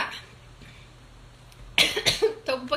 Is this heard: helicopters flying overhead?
no